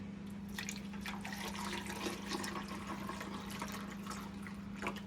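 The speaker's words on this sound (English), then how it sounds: "Now I'm going to pour in this up to its fill level." Liquid is poured into a vinyl record cleaning machine, a steady close splashing trickle over a constant low electrical hum, with no talking.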